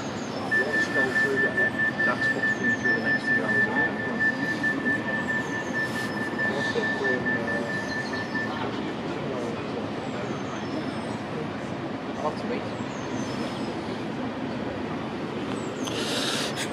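An Avanti West Coast Class 390 electric train departs Oxenholme station with a steady rumble and a long high whine, the noise gradually easing, while faint birdsong chirps in the background.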